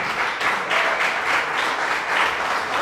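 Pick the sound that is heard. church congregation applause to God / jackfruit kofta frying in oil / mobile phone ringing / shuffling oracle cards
church congregation applause to God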